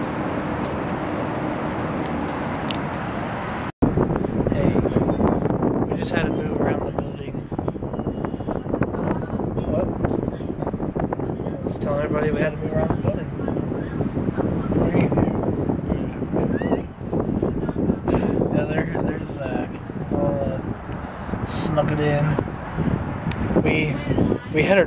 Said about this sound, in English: it's way too windy on this side